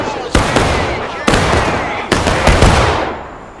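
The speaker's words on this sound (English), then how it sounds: "The U.S. can't seem to find any respite from the CSA gunfire." Musket volleys in a Civil War video game, three sharp loud cracks spaced about a second apart, each trailing into a long rolling echo of distant battle noise.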